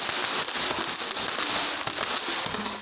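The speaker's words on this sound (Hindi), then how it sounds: "ये देखिए आतिशबाजी," Diwali fireworks and firecrackers bursting in a residential neighbourhood, a dense run of sharp crackling pops going off continuously at fairly close range, with no talking.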